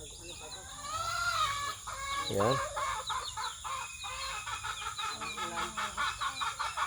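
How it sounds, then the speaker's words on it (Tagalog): Chickens and roosters cluck and squawk close by during an early-morning feeding, a busy rapid chorus of calls with a brief crow-like cry, and a single short spoken word. "Ang aga ng patuka si ate sa mga alaga naming mga manok."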